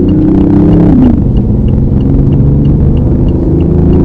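BMW i8 plug-in hybrid coupe accelerating, its exhaust note enhanced through speakers: a loud, steady engine drone rising in pitch, then settling into a sustained rumble, with no talking.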